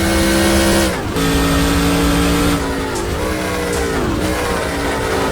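A race car in NASCAR Racing 2003 roars loudly and steadily, its engine pitch dropping sharply three times as it kicks down through gears, with no talking over it.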